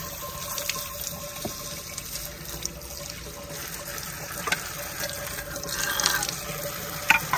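Tap water runs steadily in a sink while fresh coriander is washed, a continuous close splashing stream with small bursts and clinks toward the end, no talking.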